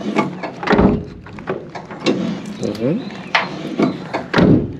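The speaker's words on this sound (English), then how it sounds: "I was working on this door. You hear this? Listen how quiet it is." A door freshly treated for rust swings open and shut with soft knocks and light mechanical clicks, close by, with a person talking over it.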